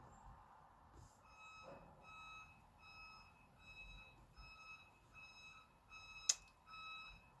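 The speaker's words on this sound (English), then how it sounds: "well, we've got a beep beep truck, Cappy." Faint, evenly spaced electronic beeps repeat about once a second from a reversing truck some distance away, with a brief sharp knock near the end.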